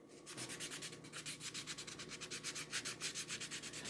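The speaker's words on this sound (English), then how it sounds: "I'm just going to kind of flip this over, and then I'm going to buff it" A cloth buffs a flat wooden autumn home decor piece finished with Chalk Couture products in steady back-and-forth strokes, a soft rhythmic swishing rub heard close up and alone.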